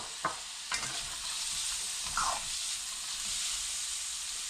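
Bacon and carrots sizzle and hiss steadily in a frying pan, with a few scraping stirs and clinks of the utensil against the pan breaking through the constant frying noise, close up and with no talk.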